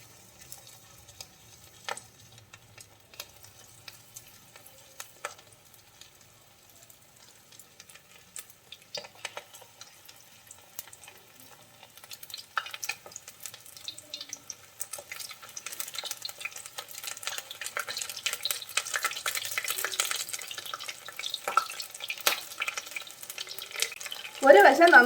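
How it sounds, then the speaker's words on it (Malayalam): Chicken lollipops go into hot oil for a crispy deep-fry, starting quietly and building to a dense, rising sizzle and crackle over the second half, with occasional stirring clinks; no voices. "എണ്ണ ചൂടായിട്ടുണ്ട്, നമുക്കിനി ലോലിപോപ്സ് ഇട്ട് കൊടുക്കാം"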